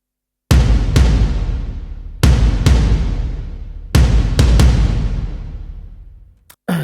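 Stacked drum samples recorded in a large room strike one after another in irregular hits, each loud and punchy with a long roomy decay tail, heard alone.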